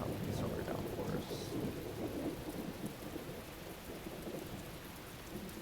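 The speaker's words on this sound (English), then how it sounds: "Thunder can be a frightening thing." Thunder rolls in a steady low rumble through a heavy summer downpour, with dense rain hissing and drumming on surfaces the whole time at a fairly constant loudness.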